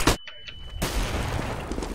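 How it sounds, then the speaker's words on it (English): A flashbang grenade goes off in a first-person shooter: one sharp, loud bang at the very start, then a short quiet gap with a steady ringing tone before a dense, noisy wash of game sound comes in. "I'm throwing a flashbang!"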